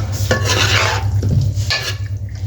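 Boiled vegetables being stirred into pulao in a pot, a steady scraping and rubbing of a spoon against the pot with a low, constant hum of cooking beneath, loud and close.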